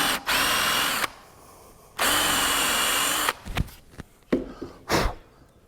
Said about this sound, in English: just a couple of 1/4 inch dowels, and I just kind of drill it in anywhere.